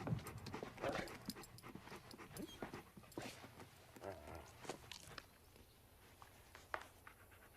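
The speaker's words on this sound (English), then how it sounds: "Dog." A dog panting and moving about indoors, with soft footfalls and small thumps, fairly close and moderately loud, no talking.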